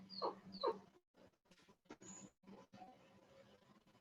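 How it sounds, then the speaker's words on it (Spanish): A dog whimpers and yips indoors during a history lecture, two sharp high whines at the start followed by softer intermittent whimpers, fairly close but quiet. "tengo un perro ahí que está fastidiando"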